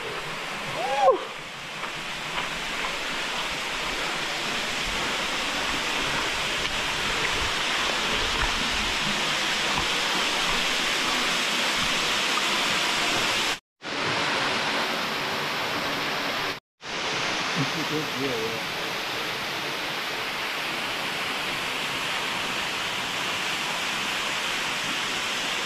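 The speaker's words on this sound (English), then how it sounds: "Like, hiking back to this waterfall." A waterfall on a Grand Canyon hiking trail in Arizona gives a constant loud rushing roar close by, broken twice by brief dropouts.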